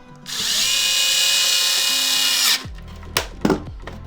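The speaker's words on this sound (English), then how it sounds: "put these two screws back in" A power screwdriver whirs steadily for about two seconds as it drives screws into the cover of a Microsoft Xbox One X console, then stops, followed by a few short clicks and handling knocks.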